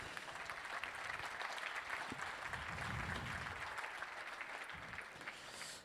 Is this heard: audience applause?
yes